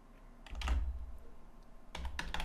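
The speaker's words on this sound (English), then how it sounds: "but let's type it in." Keys clatter in two quick bursts of typing on a computer keyboard while entering HTML code, close and crisp with a brief pause between the runs of keystrokes.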